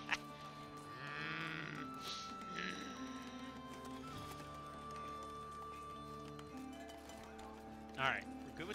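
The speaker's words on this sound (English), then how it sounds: "It's like I hit that button and it sounded like sheep." Sheep bleat faintly in the medieval city-building game Foundation, a few soft wavering calls blended into game ambience with hoof-like clopping, while a voice talks over it.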